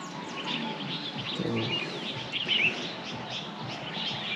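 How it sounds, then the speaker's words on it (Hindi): Birds chirp and tweet at sunset over fields and trees in Uttarakhand in November, with scattered, faint calls drifting over a steady outdoor background. "चिड़ियों की चहचहाट आप महसूस कर पा रहे हो, सुन पा रहे हो"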